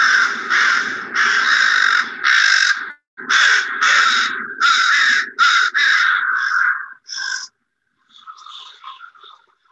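Crows cawing loudly in the morning, a rapid series of harsh, close calls in bursts over about seven seconds, then quieter, more distant cawing trailing off.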